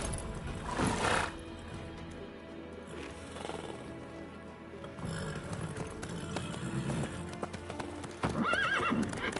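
Horse hooves clip-clop steadily in the video game Witcher 3 on the ride toward White Orchard. The moderately close hoofbeats continue under a low ambient bed, and the horse gives a brief whinny near the end.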